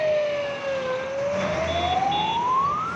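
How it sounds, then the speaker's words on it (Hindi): A fire engine siren from the Akola municipal corporation fire service wails as it arrives at a fire call, one long tone dipping then sweeping upward, loud and close against low traffic rumble. "आग की खबर मिलते ही अकोला नगर निगम की दमकल की गाड़ी मौके पर पहुंची"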